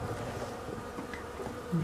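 Caucasian honeybees drone steadily inside an opened hive during a spring inspection, a dense close buzz with no voices.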